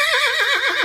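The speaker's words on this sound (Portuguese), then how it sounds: "coloca para nós aí um cavalo de carroça" A cart horse neighs in one loud, close whinny with a wavering, descending pitch.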